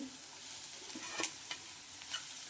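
Onions fry in a pan for fried rice, a steady soft sizzle broken by a few sharp clicks and scrapes of a spoon stirring, close and fairly quiet.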